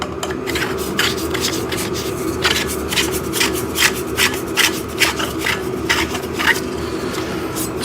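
Metal poles of a T-shape backdrop stand being screwed together, heard as close, repeated scraping and grinding twists in a steady rhythm with a faint background hum and no talk.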